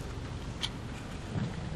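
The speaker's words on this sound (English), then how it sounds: "Raining." Heavy rain falls outside on a Tuesday morning, a steady dense hiss with a low rumble underneath, continuous and moderately loud throughout.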